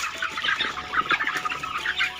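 Many chickens clucking and chattering close by in an open poultry farm, a continuous busy flock with overlapping calls and no talking.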